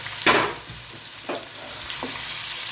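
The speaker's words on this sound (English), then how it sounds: "while cooking pork we need to be very careful" Pork frying in a pan with tomatoes, capsicum and ginger garlic paste gives a steady sizzle, broken by a few brief scraping stirs of the spatula, with no voices.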